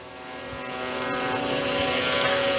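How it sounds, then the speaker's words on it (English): A four-bladed RC UH-60 Black Hawk helicopter, 500 class, makes a steady rotor whine with rhythmic blade chop that grows slightly louder, heard close and continuous. "The sound is awesome. The 4 blades make it sound so good."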